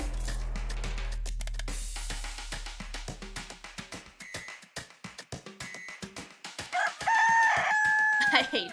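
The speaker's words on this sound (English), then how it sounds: "them putting a rooster over them yawning is the same vibe as the Among Us KSI yawning" A rooster crows loudly near the end as a comic sound effect laid over yawning, following a stretch of rhythmic beats and clicks.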